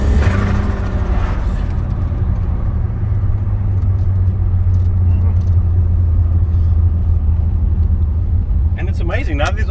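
Turbocharged Volkswagen VR6 engine on a test drive, heard from inside the car as a loud, steady low rumble throughout, with a brief rising whine near the end.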